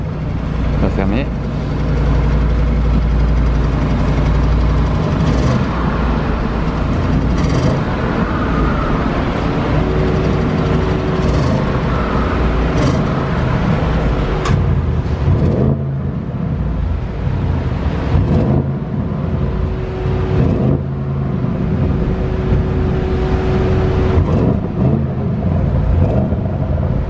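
An Audi RS6 engine idles with a deep, close rumble, then is blipped through several revs that rise and fall, with the exhaust valves opened and closed.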